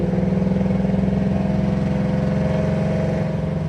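A Mustang whose carburetor needs tuning pulls at half throttle, a steady loud engine drone with a rapid pulsing rhythm and a slowly rising pitch, heard up close from inside the car with no talking.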